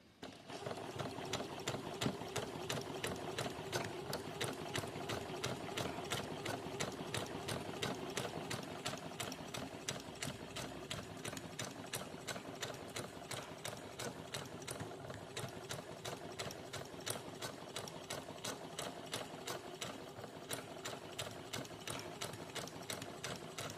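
A sewing machine fitted with a gathering foot stitches fabric in one steady, fast, continuous run, a close and even whir with rapid needle clatter that keeps going throughout, with no speech over it.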